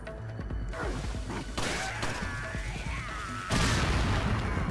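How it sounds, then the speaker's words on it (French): Loud booming blasts and crashing debris from an explosion in Resident Evil 4 Separate Ways, with several heavy impacts over a dense, noisy background. "Il y a aussi un pétard trop près de Rodrigo."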